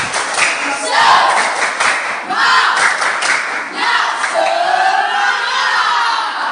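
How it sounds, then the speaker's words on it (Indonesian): A class of Indonesian sixth-grade primary school children doing a spirit clap and cheer: loud, dense crowd of young voices shouting together with clapping, in bursts with a short dip in the middle. "tepuk semangat dulu. Tepuk semangat"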